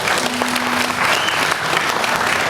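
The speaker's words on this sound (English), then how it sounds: "That alone deserves an applause." Studio audience at a television talk show breaking into loud, steady applause, a dense wash of clapping that fills the short moment with no talk.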